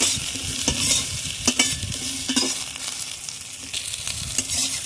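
Eggplant stirred and fried in a pan while being cooked soft for a Bengali methi shaak dish, with a steady close sizzle and repeated scraping spatula strokes against the pan.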